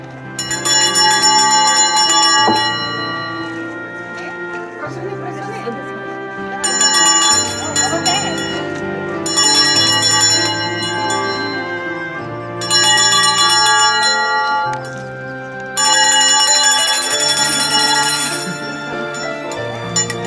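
A school bell rings loudly at a first-day-of-school ceremony in 2022, in repeated bursts of bright ringing over a steady musical background.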